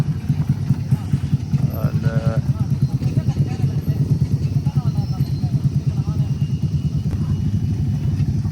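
A Yamaha motorcycle engine runs with a steady, throbbing mid-range drone while riding a rough, damaged road, close and continuous, with people talking at times over the noise.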